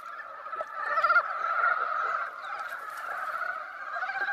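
Frogs call in the breeding season in Asian wetland jungle, a chorus of honking, goose-like croaks that rise and overlap steadily, fairly close and loud.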